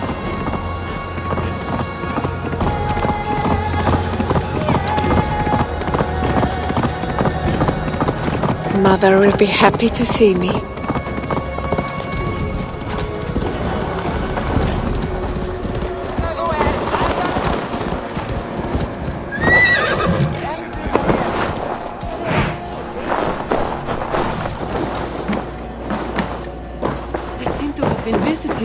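Hooves clip-clop and a horse neighs in Assassin's Creed Valhalla, layered with rain and rumbling thunder over a steady game soundtrack, while characters speak throughout.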